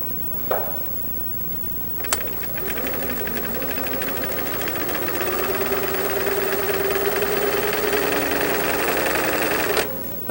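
A home sewing machine runs steadily for about eight seconds, zigzag stitching down the cut edge of a polyester pocket bag. A click starts it, the motor whirs evenly and rises slightly, and it stops with another click.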